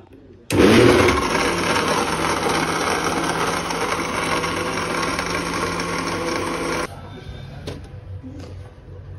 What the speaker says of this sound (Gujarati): આઈસ ક્યુબ નાખી દીધા છે, હવે પાછું એક વાર મિક્સ કરી લઈએ એટલે થોડું ઠંડુ પણ થઈ જાય।